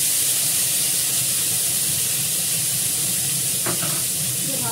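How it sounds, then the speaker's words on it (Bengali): Tomato sautéed with a little salt in ghee with five-spice tempering, a steady close sizzle and hiss of frying, with a brief clink or scrape near the end and no talk. "ভালো করে কষাবো টমেটোটাকে"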